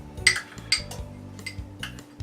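A wooden spoon stirs Reese's rice crispy treat mixture in a bowl, giving a series of close, irregular clinks and knocks against the dish.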